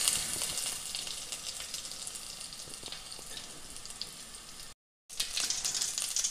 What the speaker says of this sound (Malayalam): ആദ്യം തന്നെ പാത്രം ചൂടായി കഴിയുമ്പോൾ നമ്മുടെ ബട്ടർ ഇട്ട് കൊടുക്കുക.